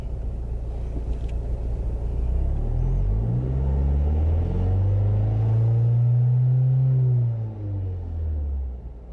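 A Mazdaspeed3 engine, with the AC switched off, climbs smoothly from idle to about 4000 rpm and settles back down as a deep, even rumble, with no talking over it.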